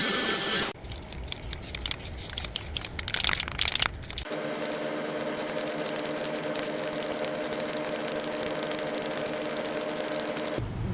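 An aerosol can sprays clear coat over a freshly painted black wheel. A few seconds of rattling handling noise come first, then a continuous close hiss holds steady to the end.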